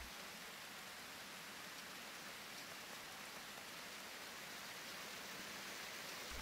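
Rain falls in the Harvest Moon farming game Wind Bazaar, a faint, even hiss running steadily throughout with no voices over it.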